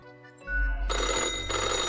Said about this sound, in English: the old-fashioned phone suddenly rings with an ear-piercing metallic clatter